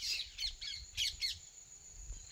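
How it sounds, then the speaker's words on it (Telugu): Parrots squawk near a maize field in the village countryside, giving five or so harsh, shrill calls in quick bursts at moderate distance over a quiet low rumble of open air. "మొక్కజొన్నలు అన్నీ ఆ చిలుకలే తినే హింటాయి"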